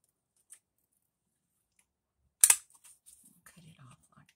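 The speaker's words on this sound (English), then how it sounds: "let's use this corner puncher thing, corner chomper" A handheld corner punch snaps down through a recycled paper envelope, one sharp crunchy clack up close, followed by faint rustling of paper.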